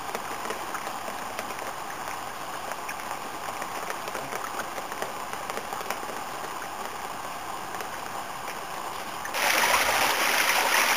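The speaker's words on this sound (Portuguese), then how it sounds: "Segunda cachoeira do Churriado, 8 metros, uma fofura." An 8-metre waterfall in a moss-covered rocky canyon gives a steady, hissing rush of falling water that swells noticeably louder near the end.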